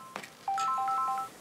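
A short electronic phone ringtone chirps in quick rising and falling tones after a brief click, clear and close.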